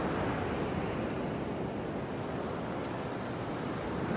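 Ocean surf on the beach in North Naples, Florida: a continuous broad wash of breaking waves mixed with wind buffeting the microphone, steady and fairly even throughout with no voices.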